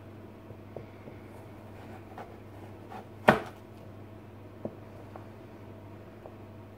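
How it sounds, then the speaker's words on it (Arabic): A kitchen knife cuts peeled taro into even cubes on a board, one sharp, close chop standing out amid a few faint taps in a quiet room. "هنيجي بقى نقطعها بقى الناحية التانية عشان نخلي الصوابع دي تبقى مربعات"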